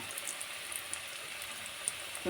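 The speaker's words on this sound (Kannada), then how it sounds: "ತೆಗೆದು ಹೀಗೆ ಎಣ್ಣೆಲಿ ಫ್ರೈ ಮಾಡಬೇಕು ಚೆನ್ನಾಗಿ" Aloo kabab fries in a little oil, giving a soft, steady sizzle and faint crackle at low level throughout, with a brief clatter near the end.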